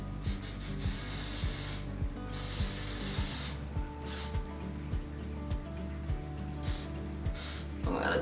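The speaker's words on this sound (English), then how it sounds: "This is the We Need Her Gold Spray" A gold cosmetic shimmer spray is pumped in several short, sharp hissing bursts, each a close, bright spritz separated by brief pauses over a faint rhythmic background.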